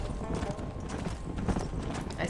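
Horse hooves at a canter in Red Dead Redemption, a steady rhythmic clip-clop of hoofbeats under dense ambient game sound.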